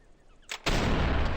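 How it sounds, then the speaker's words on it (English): A Mosin Nagant sniper rifle fires in the video game Sniper Elite 4, a sharp, loud report after a brief mechanical click, followed by a dense, sustained roaring echo. "So that is the Mosin Nagant. It is a very beautiful sounding rifle."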